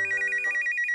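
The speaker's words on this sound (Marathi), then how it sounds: "नाही सासूबाई, फोनची रिंग वाजते" A telephone rings indoors with a rapid, trilling electronic bell pattern, loud and close, repeating steadily with no talk over it.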